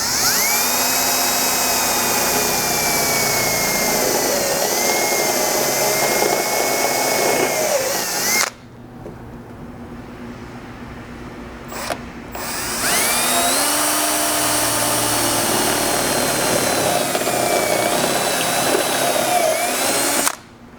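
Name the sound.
drilling 1/4 inch holes for XJ hatch ladder bracket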